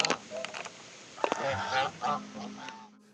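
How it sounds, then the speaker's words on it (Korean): Geese honk repeatedly on the KAIST campus near a pond, a cluster of nasal calls close by against an outdoor background, with no talk over them. "이 거위를 총장님이 처음 기르셨다고 그래요?"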